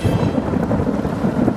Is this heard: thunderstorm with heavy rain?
yes